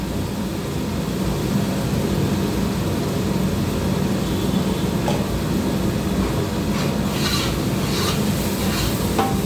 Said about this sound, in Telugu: ఆడేసిన తర్వాత ఇప్పుడు కొద్దిగా వేపేస్తాను ఆయిల్ వేసి